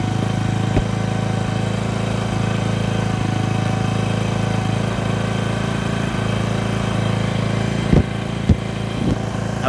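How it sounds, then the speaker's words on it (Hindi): A Hero Splendor motorcycle engine idles while warming up, a steady, loud, even chugging drone that holds throughout with a few faint knocks near the end. "इंजन थोड़ा अच्छे तरीके से गर्म होने तक देख लेना।"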